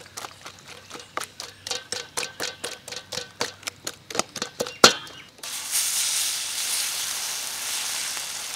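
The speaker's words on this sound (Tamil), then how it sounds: "நல்லா அடிச்சுக்கிறோம்ப்பா." Eggs beaten by hand for a mutton omelette in a village cooking setting, about seventeen quick rhythmic whisking strikes against a bowl, close and steady, then a loud hiss of oil or batter hitting a hot pan.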